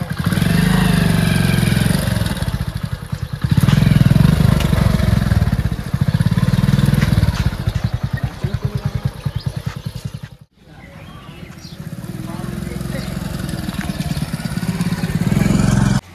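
A motorcycle engine idles and revs in uneven surges, loud and close, dipping briefly before picking up again as the bike pulls away, with a voice talking over it.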